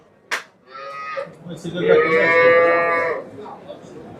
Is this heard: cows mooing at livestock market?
yes